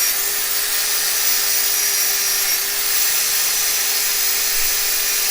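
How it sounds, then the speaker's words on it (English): A steady, high-pitched whir of a spinning drill with a small sander held to a woodturning piece still on the drill bit, a sanding hiss, continuous and close, with no talking. "All I would do is use my little sander"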